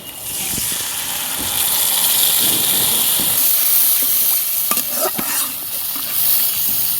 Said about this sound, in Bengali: এই যে মশলাগুলো পেস্ট করে রাখছি এটা দিয়ে দিলাম